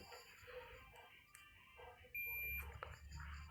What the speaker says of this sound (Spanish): escuchamos el otro pitido en el otro extremo